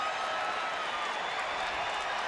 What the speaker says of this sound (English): The crowd cheering Terry Francona as he comes out to make the move.